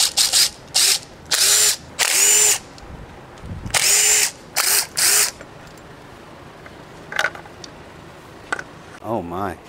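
Bursts of a power tool, likely an impact driver, whir in short repeated pulses while bolts come off the primary cover of a diesel motorcycle, loud and close, with a few quieter clicks between.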